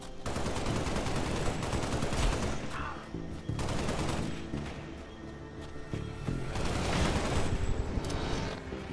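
Heavy automatic gunfire and explosions from the video game Halo: Spartan Strike, a dense, continuous barrage of rapid shots and blasts running loud and unbroken throughout.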